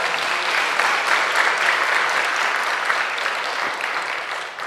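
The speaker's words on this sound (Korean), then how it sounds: "이렇게 큰 은혜 주신 우리 하나님께 감사의 박수 올려주시면 어떨까요?" A church congregation applauds in thanks during a Christian lecture at a Presbyterian church in Incheon, with steady, dense clapping sustained throughout and tapering slightly at the end.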